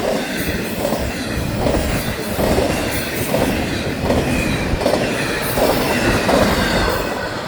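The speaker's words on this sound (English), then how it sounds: "Oh my gosh, it's a massive train, so it's two trains." A massive FEC train, two trains running together, rolls past close by with a steady loud roar of wagons and rhythmic wheel clatter, a faint squeal over the top and no talking.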